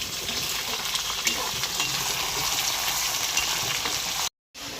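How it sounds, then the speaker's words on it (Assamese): Chicken pieces fry over browned onions in a pan, giving a steady close sizzle with scraping stirs. A brief silent gap comes near the end before the sizzle resumes. "চিকেনখিনি অকণমান ফ্ৰাই কৰি মছলাখিনি এড কৰিম"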